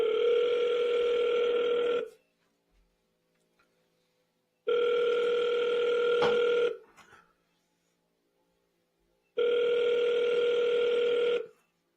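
Unanswered telephone call ringing back in three long, steady tones, each about two seconds, separated by silent gaps, clear and close.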